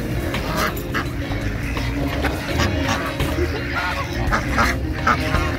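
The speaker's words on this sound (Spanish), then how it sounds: "Es que estos son patos y son gansos también." Ducks and geese quacking and honking in a noisy cluster close by as people toss bread to them in León, Guanajuato, with repeated overlapping calls over a steady outdoor background.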